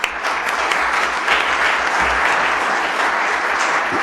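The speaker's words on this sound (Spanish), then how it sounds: "un aplauso muy fuerte para ellos" Loud, dense audience applause, a steady wash of many hands clapping without pause.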